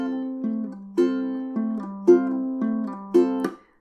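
Ukulele picking a song's tab with the index finger only, one string at a time. Plucked notes sound in choppy pairs with short gaps, close and clear, then ring out and stop.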